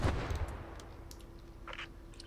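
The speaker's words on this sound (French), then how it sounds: "C'était une explosion." An explosion in the war game Post Scriptum during a tank match, a booming blast right at the start that decays into a rumbling tail with scattered distant gunfire cracks.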